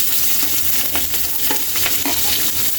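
Onion and garlic tossed with ginger in a hot pan, giving a loud, close, continuous sizzle with brief stirring scrapes and no talk.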